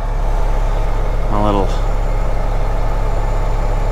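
A semi truck tractor engine idles with a steady, loud low drone throughout, and a brief spoken phrase cuts in over it near the middle.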